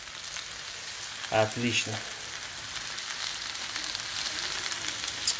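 Mushroom roast of assorted mushrooms frying in a pan, browned to a golden crust, giving a steady close sizzle throughout, with a brief burst of a voice speaking midway.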